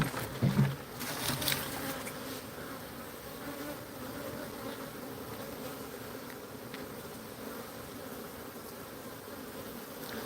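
Honey bees buzz steadily close by at a hive entrance, a continuous droning hum with a few louder passes near the start.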